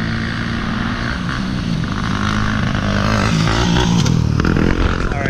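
A motorcycle runs hard and loud up close, its engine roar steady and then rising and scraping as it hits a jump, with no talk.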